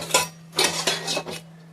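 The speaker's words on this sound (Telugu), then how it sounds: "బాండీ పెట్టేస్తున్నాను." A metal wok (kadai) set onto a gas stove in a home kitchen, several quick close clanks and scrapes of metal on metal, with a faint steady hum underneath.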